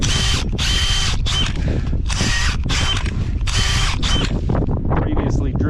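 Cordless power drill opening up a previously drilled hole while restoring a farm windbreak, with several loud whirring bursts starting and stopping in quick succession close to the microphone, followed by a rattly slowing spin-down.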